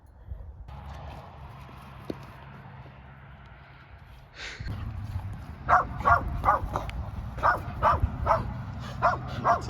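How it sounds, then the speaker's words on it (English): Dogs barking in a repeated run of sharp, loud barks after a quieter opening with faint background noise, the barks coming in quick bursts toward the end. "I got weird dogs."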